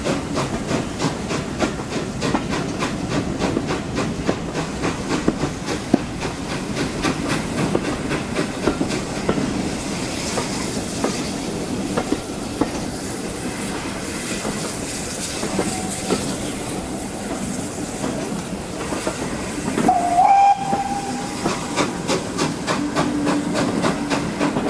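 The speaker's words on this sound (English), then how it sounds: "Back aboard the train for Buckfastleigh" A South Devon Railway heritage train runs toward Buckfastleigh, heard from aboard as a steady, rhythmic clickety-clack of wheels over rail joints with a continuous rumble and a faint hiss beneath.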